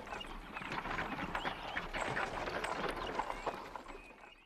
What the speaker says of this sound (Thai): ชนะหยุดรถม้าก่อนสิ